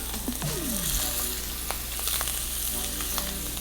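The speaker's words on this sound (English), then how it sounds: "We're gonna put that scallop right down and do not touch it. Don't touch it, let it sear." A scallop sears untouched in a hot pan, giving a loud, continuous sizzle with scattered pops and crackles close up.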